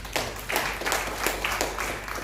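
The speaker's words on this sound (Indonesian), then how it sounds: "Tepuk tangan bagi Yesus" A church congregation clapping during a sermon in Jakarta, a series of rhythmic bursts of many hands at moderate distance, fairly quiet with room echo and no speech.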